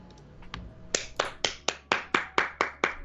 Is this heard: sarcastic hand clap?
yes